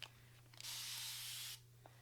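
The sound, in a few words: continuous spray water bottle spraying hair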